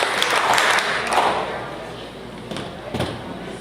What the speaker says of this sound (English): If you can hear my voice, clap 3 times.